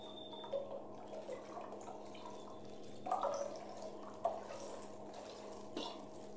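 Milk poured into a bowl while making puto cheese, a faint, soft, steady trickling stream of liquid close by with a couple of light knocks, quiet and without talk.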